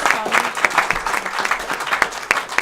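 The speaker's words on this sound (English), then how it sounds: "round of applause to the" Wedding guests clap for the parents at a reception, a lively, close round of applause with sharp individual claps standing out and little talk.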